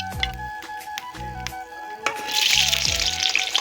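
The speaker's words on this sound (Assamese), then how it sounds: "আলুখিনি ফ্ৰাই কৰি লওঁ" Potatoes hit hot oil in a kadai and break into a loud, steady sizzle partway through, preceded by a few rhythmic low knocks and clatters, with no voices.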